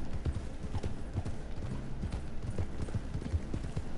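Horse hooves galloping in Red Dead Redemption II, a steady rhythmic clip-clop of repeated hoof beats over a constant background bed, fairly soft and even.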